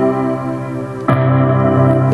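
A Toontrack EZ Keys electric piano plays sustained chords with a gritty, distorted edge, then a new chord strikes and rings on, bright and buzzy with slight echo.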